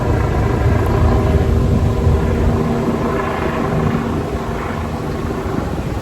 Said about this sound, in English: You hear the helicopter, right?